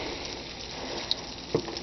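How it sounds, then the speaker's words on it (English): Steady bubbling, rushing water noise fills the clip, like a pot at a rolling boil, with a couple of brief clinks near the end. "our water is now boiling"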